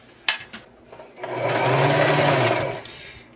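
A sewing machine stitches a fabric Christmas garland with red thread, running in one steady continuous burst lasting about a second and a half after a few short clicks and handling sounds, close and loud.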